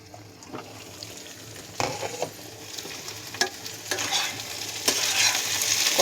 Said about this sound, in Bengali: এখন ঢাকা দিয়ে এটাকে কষাবো।